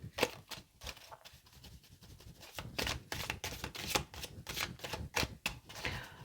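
Tarot cards drawn and laid down on a table in a series of sharp, close taps and quick slides, clustered irregularly with brief pauses between, with no talking.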